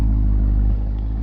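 Chevrolet Camaro SS with mufflers deleted idling after a cold start, a deep, loud, throbbing exhaust rumble heard up close in a brief burst.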